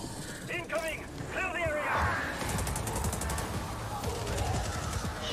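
Gunfire from a Ubisoft video game trailer, a dense layer of shots and bursts mixed with music and effects that continues loudly throughout.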